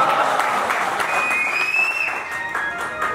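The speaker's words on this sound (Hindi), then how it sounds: "तुम्हारी तालियां बहुत कमजोर है।" Audience applause following a Hindi poetry recitation at a grand annual function, a steady broad patter of clapping from a hall crowd that gradually thins, with faint tonal whistling sounds briefly heard over it.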